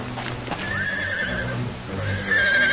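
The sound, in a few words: horses neighing and galloping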